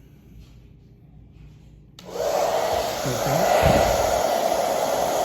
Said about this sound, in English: turn on the blow dryer.